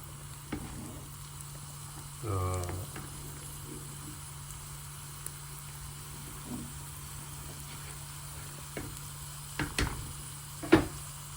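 Onions brown in a pan for sambar with a faint, steady frying hiss, broken by a few soft clinks and scrapes of stirring.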